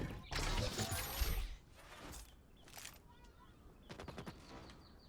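Rapid automatic gunfire in the PvPvE video game Hawked, a loud burst of shots up front followed by scattered quieter volleys and single shots, with players talking over the action.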